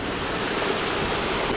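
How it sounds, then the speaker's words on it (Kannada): Water rushing at a hidden waterfall near Mangalore, a loud, steady broadband roar that fills the whole clip without pause, close by and alone with no voices. "ಫಾಲ್ಸ್ನ್ಯಾಗ ನೀರು ಜಾಸ್ತಿ ಜಾಸ್ತಿ ಇಲ್ಲೆಲ್ಲ ಹರಿದು ಬರತ್ತೈತೆ ನೀರು ನೋಡ್ರಿ"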